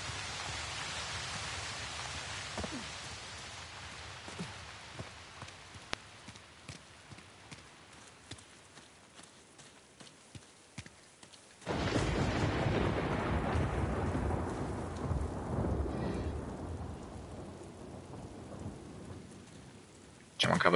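Rain and rolling thunder in the Uncharted: The Lost Legacy video game: faint patter and distant rumbles at first, then a sudden loud downpour roars in and stays heavy to the end.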